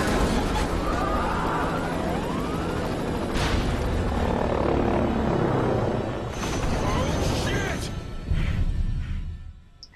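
Blackwatch military helicopter closing in during a Prototype 2 game scene, a loud rotor roar mixed with booms, crashes and alarm-like tones, with a brief voice over the din.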